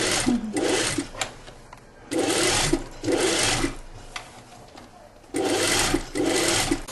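A sewing machine stitches a cotton-linen shirt-tunic in short loud bursts of rapid whirring, about four runs separated by brief pauses, close by and with no talk.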